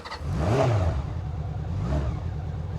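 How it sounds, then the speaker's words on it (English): A 1996 Honda CB750F2 motorcycle engine revs twice, each blip rising then settling back to a low idle rumble, heard from fairly close with no voices over it. "You just rev it and you can hear it"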